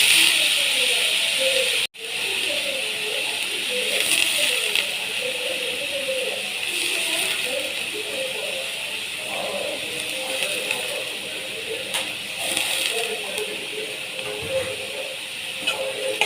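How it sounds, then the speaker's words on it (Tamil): Chopped beans, carrots and cabbage go into a hot pan for noodles, giving a steady loud sizzle and hiss with a sharp clatter near the start and faint stirring scrapes throughout. "அப்புறம் இப்போ நம்ம அந்த கட் பண்ணி வச்சுருக்க காயெல்லாம் சேர்த்துடலாம்."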